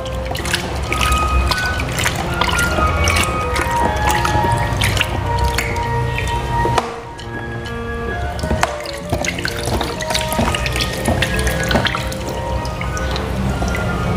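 Water splashes and drips steadily around a baby sulcata tortoise soaking in a bath, a continuous close wet trickle with a brief lull partway through.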